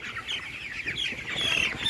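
Chickens cluck and murmur close by, a busy overlapping chatter of hens under heat lamps hung at head level in winter, with steady background noise and no talking.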